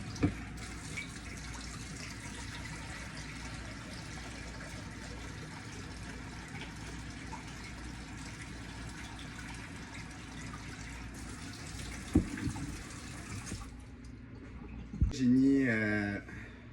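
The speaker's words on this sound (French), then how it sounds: "Je vais commencer par remplir les 2 chaudrons d'eau." Kitchen tap water filling two cooking pots, a continuous hissing rush for over ten seconds that stops abruptly, followed by a few knocks and a voice speaking.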